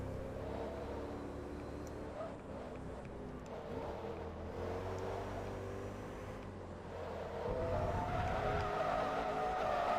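Car tires squeal and skid under a droning race engine during a Stoptech 400HP Invitational race in the Forza Motorsport 2 video game, with the skidding growing louder toward the end.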